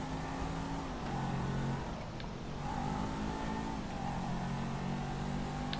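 A car driving in GTA 5 Online, its engine droning steadily with rising and falling revs as it shifts, close and continuous over a few seconds with no talk.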